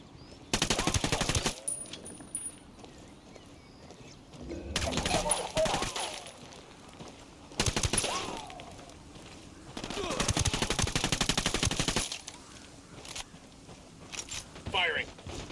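Bursts of automatic gunfire in the Ghost Recon Wildlands video game, several sustained rattling volleys with short gaps between them, loud against quieter game ambience with some movement noise.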